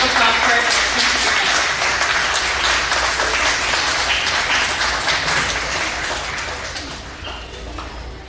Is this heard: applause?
yes